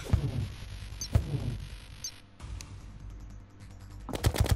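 Gunfire from a pirate captain in the video game Terraria: heavy booming shots at roughly one-second intervals, then a burst of rapid shots near the end, over a low rumbling game hum.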